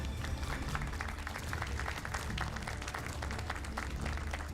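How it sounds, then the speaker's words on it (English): An audience applauds Vice President Kamala Harris at a town hall, a steady wash of clapping held at even loudness throughout, with no voices standing out. "Jesus, that was some shitty clapping."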